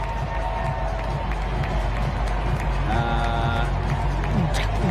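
Stadium crowd at an event as the USA team walks out, a dense, continuous roar of many voices with music-like tones and scattered cheers over it.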